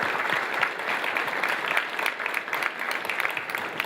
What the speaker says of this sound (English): Round of applause for Lawrence.